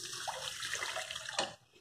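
Water poured into a mug, a short hollow splashing stream with a brief louder gush before it stops, close and alone.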